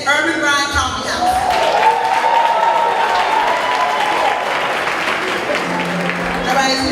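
An audience at an arts, neo-soul and poetry awards event claps and cheers for an award winner, a dense burst of applause with whoops, while a voice speaks over it near the start.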